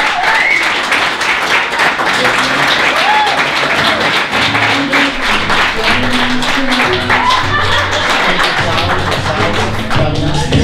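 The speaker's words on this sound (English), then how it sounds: "more applause for the bride and groom!" Wedding ceremony guests applaud the bride and groom with dense, continuous clapping close by, while voices murmur and call out underneath.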